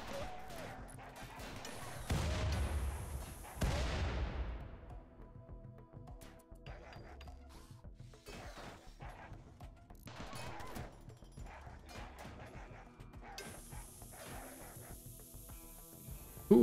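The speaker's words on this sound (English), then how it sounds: "the rest, I hope, is just gonna get massacred by the turrets" Turret gunfire and explosions in the colony-building video game RimWorld, with bursts of rapid shots and a couple of heavier blasts early on, then scattered softer pops and impacts at a moderate distance.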